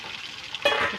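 Oil sizzles and crackles in a pan, and a louder burst of frying hiss rises partway through as a whole chicken hits the oil. Close, with no voices.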